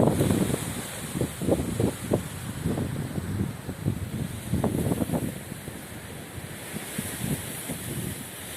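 Strong storm wind gusts over small homemade portable wind turbines, a loud, continuous buffeting rumble that swells in uneven bursts throughout, with no voices.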